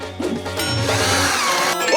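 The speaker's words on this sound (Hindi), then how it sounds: "मैं ड्रिल के साथ काम करूंगी।" A power drill whirs while furniture such as a bed is being assembled, a steady motor drone with tonal pitch shifts lasting about two seconds, no talking over it.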